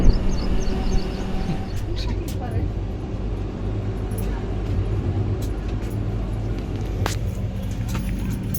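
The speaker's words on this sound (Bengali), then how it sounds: "স্টপেজ দেওয়ার পর আমাদের ট্রেন ছেড়ে বেরিয়ে যাচ্ছে এখন KJM।" The 12864 Bangalore–Howrah Express rolls slowly out of Krishnarajapuram station, a continuous low rumble and rattle of train wheels, with voices heard over the noise.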